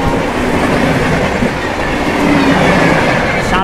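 The Brahmaputra Mail, an Indian express train bound for Kamakhya Junction from New Delhi, thunders past at high speed, a loud continuous roar of wheels and rattling carriages close by with a brief squeal near the end.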